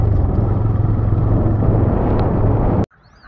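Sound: TVS Raider motorcycle riding in first gear

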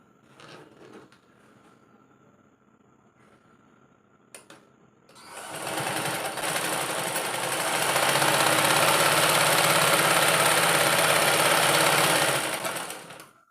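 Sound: sewing machine stitching fabric for a pencil pouch

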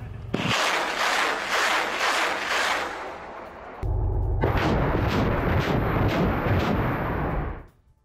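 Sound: Grad rocket launcher attack

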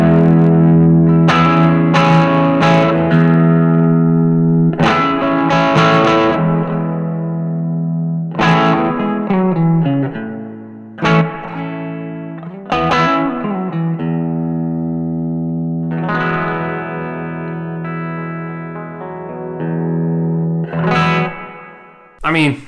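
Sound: Maybach Teleman T54 electric guitar played with gain

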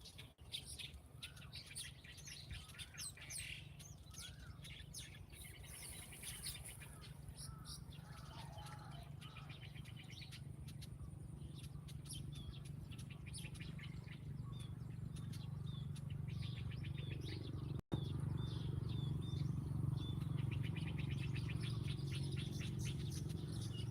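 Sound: Asian golden weaver male calls

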